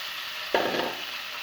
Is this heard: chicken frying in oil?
yes